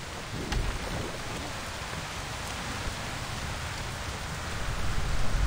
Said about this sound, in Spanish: Que había algo extraño con esa tormenta.